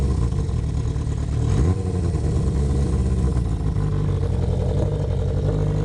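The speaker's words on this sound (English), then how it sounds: "Blip the throttle." Honda CB500/550 motorcycle engine running close up with rough idle issues, its steady mid-range drone briefly rising as the throttle is blipped, then settling back to a high idle.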